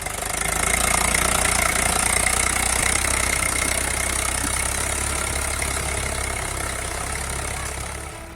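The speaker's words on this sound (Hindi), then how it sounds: "किसान अपने ही खेत में अपनी ही फसल पर ट्रैक्टर चलाकर उसे बर्बाद कर रहा है" Tractor engine running steadily in a cabbage field as it drives over the standing crop, a loud continuous low drone with a slight knocking rumble, close by and unbroken for several seconds.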